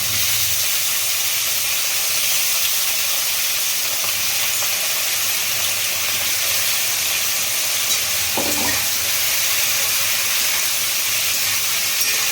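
Mushrooms shallow-fried in a little oil give a steady, bright sizzle and hiss that runs unbroken throughout, close and fairly loud, with one brief scrape of stirring near the end and no talking.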